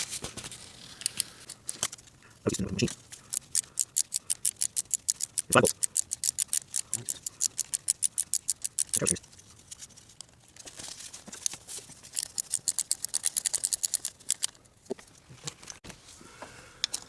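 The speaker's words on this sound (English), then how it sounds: "Use an 8 millimeter socket to remove all the bolts on the water pump." Rapid metallic ratcheting clicks come in quick bursts, an 8 mm socket wrench removing water pump bolts on a Chevy Impala close by, with brief pauses and occasional thuds between runs.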